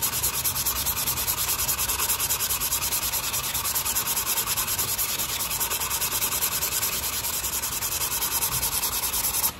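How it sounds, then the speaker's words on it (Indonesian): Carbon fiber skin sanded by hand, a continuous close, loud raspy rubbing with fast back-and-forth strokes that stops abruptly at the end. "Kita semakin gosok bagi dia semakin halus."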